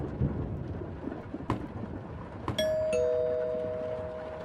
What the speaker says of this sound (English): The doorbell again.